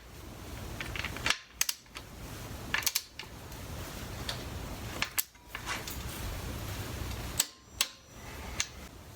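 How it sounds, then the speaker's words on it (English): Center bolt on a Harley-Davidson Dyna inner primary being tightened with a hand tool, giving sharp metallic clicks and ratcheting snaps in several short bursts over a quiet workshop background. "So this little center bolt here gets tightened to 21 to 29 foot-pounds."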